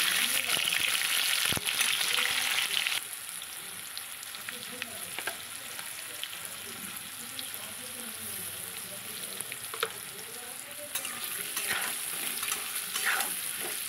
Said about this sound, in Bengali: এইবার সব সবজি দিয়ে আলু আর কুমড়ো একটু নেড়ে নেব।